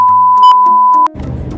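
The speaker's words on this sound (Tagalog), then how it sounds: "Lagyan nyo ng beep, beep." A steady electronic censor beep covers a spoken name for about a second, loud and continuous, then cuts off into muffled background chatter.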